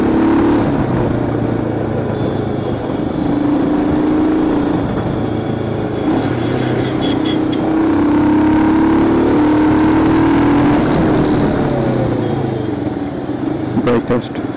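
Royal Enfield Himalayan adventure motorcycle on a speed run, its engine droning steadily with rising pitch under strong wind rush, a rider talking over it throughout.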